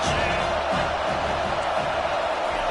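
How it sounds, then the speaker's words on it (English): Football stadium crowd roaring steadily before a second-down play, a dense, continuous wall of cheering with no breaks, loud and sustained throughout. "this crowd is turning it up a notch"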